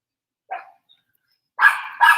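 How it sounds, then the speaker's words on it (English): A dog gives one short bark, then after a pause two louder barks in quick succession, close and clear against a quiet background. "That bark."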